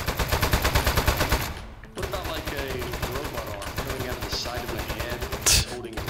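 Rapid automatic gunshots in Aperture Desk Job rattle out in a fast, even stream, then cut off briefly before sparser bursts return, with people talking over the shooting.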